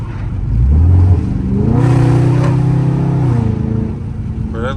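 A Dodge Scat Pack V8 revs hard with the pedal floored while held back in valet mode, the engine rising into a loud, sustained drone and holding for a few seconds before easing off, close to the car.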